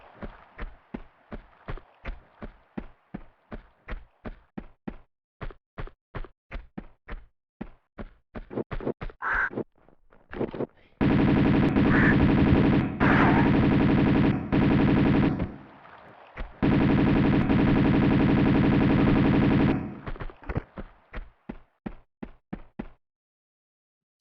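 Enemy gunfire in Tomb Raider II, sounding as rapid bursts of shots in rhythmic volleys, with loud sustained stretches of dense automatic fire mid-way, no voices.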